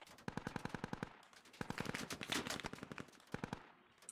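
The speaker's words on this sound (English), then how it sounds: "They're putting fire through the doorway too." Rapid automatic gunfire in the video game Squad crackles in several sharp bursts, fairly faint and distant, with short pauses between volleys.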